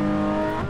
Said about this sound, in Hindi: ये ना Porsche बहुत स्पेशल है, ये मैनुअल है, यहाँ पे मेरे को गियर शिफ्ट करना पड़ रहा है विद क्लच